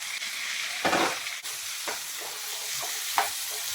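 Chopped tomatoes frying with softened onions in a pan for butter chicken. A steady close sizzle runs throughout, broken by a few scraping stirs and clatters, with no voices.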